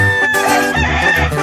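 A fighting rooster from a game-bird farm crows loudly and close by in one sustained, strained call lasting just over a second.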